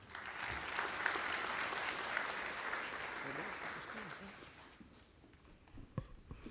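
An audience at a nursing college spring convocation gives a sustained round of applause for the interim dean. The clapping stays loud and dense for several seconds, then fades into scattered claps and shuffling.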